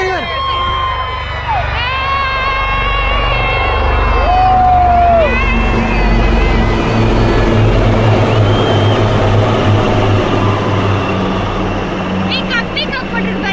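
An Indian Air Force helicopter flies past at an air show in Chennai, a loud, continuous rotor and engine roar over crowd noise and whistles from spectators nearby.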